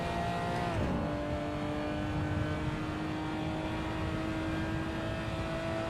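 Race car engine in the Assetto Corsa racing game on the Nordschleife, a steady droning engine note that drops in pitch early on, then holds a constant hum under a continuous bed of noise, no talk.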